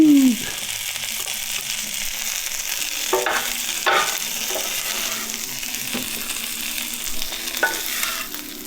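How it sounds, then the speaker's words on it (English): Scallions softening in a pan of hash griddled in mayonnaise sizzle steadily up close, with several scraping stirs of a spatula breaking through the frying hiss. "Just gonna soften up those scallions a tiny bit."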